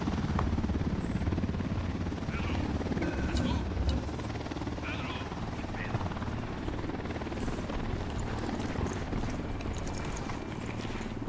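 A helicopter in a video game gives a continuous loud rotor and engine roar, with scattered clicks and effects from the game on top.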